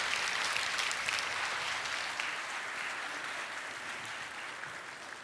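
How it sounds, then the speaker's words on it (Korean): A church congregation at an early morning prayer service gives a steady, even round of applause that holds throughout at moderate distance, with no voices over it. "큰 박수로 환영하겠습니다."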